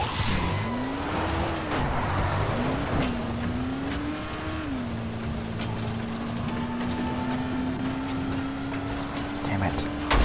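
A car in Dying Light drives with a steady droning engine that rises and dips, with occasional thuds and scraping knocks as it bumps into things, under frequent talking.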